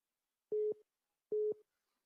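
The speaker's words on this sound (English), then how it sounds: "Oh, Captain hung up on me?" Telephone busy signal after a call is hung up: two clean, evenly spaced tone beeps in the quiet, each about a quarter second long, with no talk.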